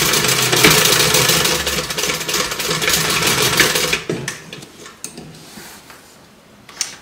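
A Simply Classic sewing machine runs steadily for about four seconds, a loud close whirring hum with fast ticking stitches, then stops and leaves only faint handling clicks.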